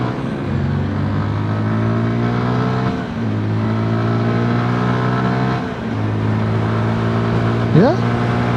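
A 2022 MASH X-ride 125 motorcycle pulls away close by, its single-cylinder engine note climbing steadily and dipping at two gear changes before rising again, loud and continuous.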